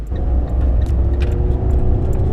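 A car engine, heard from inside, revs steadily under the gas pedal as it rolls during a street race against a Mustang and a Mercedes C300, with a loud, continuous low growl and no break.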